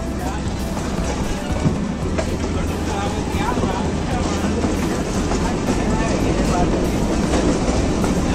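A Kalka–Shimla narrow-gauge toy train rumbles steadily along the tracks with a rhythmic clickety-clack, heard from inside a Vistadome coach, with a voice talking over it.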